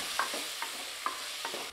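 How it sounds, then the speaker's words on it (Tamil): Tomatoes sautéing in a pan for a Kongu-region bajji kadayal, a steady soft sizzle broken by four evenly spaced scrapes of a spoon stirring, close and alone. "தக்காளி நல்லா வதங்கி வரட்டும்."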